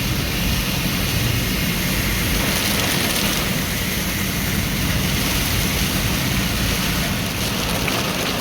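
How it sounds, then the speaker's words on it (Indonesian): Heavy rain pours down steadily during a flood in Palembang, a dense, loud, continuous broadband hiss of downpour with no breaks, heard alone without any talk. "Banjir di mana-mana, Palembang diguyur hujan deras."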